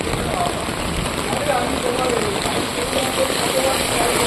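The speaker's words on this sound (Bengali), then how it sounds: "মাই গড, কি বৃষ্টি হয়েছে দেখো" Heavy rain pours steadily outdoors on a dark road, a dense, continuous hiss of drops on the ground and surfaces, with a voice speaking over it.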